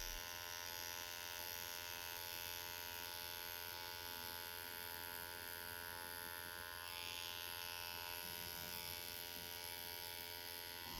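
A tattoo machine runs continuously as its cartridge is rinsed in a cup of distilled water, a steady faint electric buzz with an even hum underneath and no breaks.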